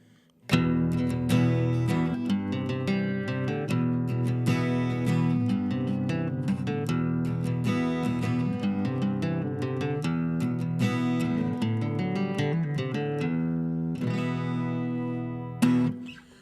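An acoustic-sounding guitar repeats a picked riff from a song over ringing open strings, steady and close, with a final strum at the end.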